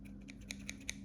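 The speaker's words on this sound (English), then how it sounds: "Sorry, these are my bad scissors." Small scissors snip through knitting yarn at the end of a toddler neck warmer, giving three or four quiet, crisp clicks about a fifth of a second apart over low background hum, with no talking.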